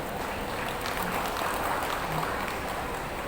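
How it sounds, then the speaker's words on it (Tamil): Audience applause at a Tamil wedding ceremony, a steady dense wash of clapping from a crowd that holds at an even level throughout, with no clear talk over it. "உங்கள் சார்பாக அவர்களுக்காக ஒரு கைத்தட்டுங்கள்."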